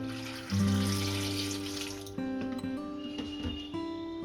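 Water pours from a tap into a pot of small potatoes for boiling, a loud splashing rush for about a second and a half, then ringing, shifting tones as the pot fills and settles.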